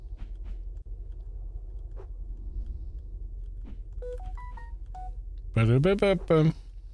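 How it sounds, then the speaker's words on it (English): A Samsung phone rings with a custom tone taken from Cyberpunk, a short burst of loud electronic warbling near the end after a few quieter beeps, over low background hum with a voice talking. "you know how the phone rings in Cyberpunk? That's my ringtone."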